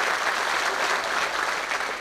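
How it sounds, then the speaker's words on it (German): At a live concert of Bohemian folk melodies, the audience claps in a dense, even, moderately loud burst that holds steady for two seconds with no voices above it. "Noch einen kleinen Applaus für meine nette Begleitung"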